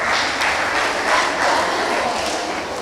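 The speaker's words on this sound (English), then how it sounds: "Please clap for Usainatu Sise once again" An audience claps for a child contestant at a kids' podium competition in Gambia, a dense, fairly loud burst of applause sustained throughout.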